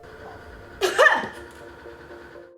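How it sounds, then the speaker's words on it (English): A single forceful cough burst from a person leaning forward with knees pulled toward the chest, close and fairly loud, followed by a quiet exhale and then stillness. "Pull your knees up towards your chest and lean forward as you cough."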